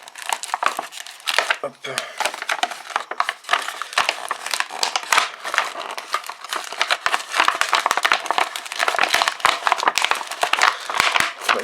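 Foil Pokémon card booster pack wrappers from the Double Danger set being torn open and crumpled, a dense run of close, loud crinkling and ripping with a single brief spoken word.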